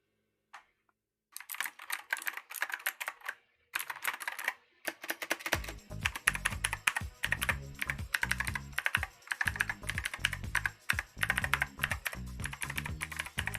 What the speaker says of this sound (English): I've never had a clickety-clackety keyboard.